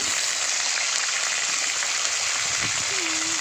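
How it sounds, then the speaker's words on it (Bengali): Small white home-grown eggplants frying in oil, a steady, even hiss and crackle of sizzling that holds at a constant level throughout, close up, with a faint tonal sound near the end. "এবার আগে বেগুনগুলো ভেজে নেব"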